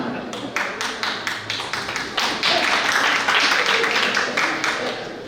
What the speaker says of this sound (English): The question is why she's the only one applauding.